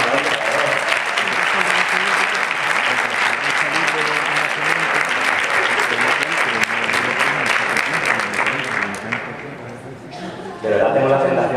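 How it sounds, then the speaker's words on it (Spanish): Sustained audience applause fills a Spanish round-table panel session, dense and loud for about ten seconds before dipping briefly and swelling again at the end. "Una aplauso, por favor."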